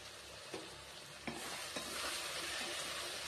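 Vegetables with a generous amount of sauce stir-fry in a pan for chow mein, a steady close hiss and sizzle with a few sharp scrapes of stirring.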